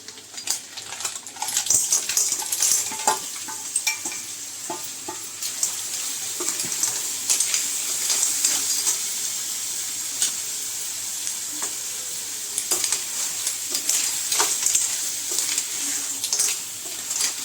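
Clams sautéing in a pan with fried onion and turmeric for a Konkani clam curry, a steady loud sizzle and frying hiss with scattered stirring scrapes and clinks throughout, no talk.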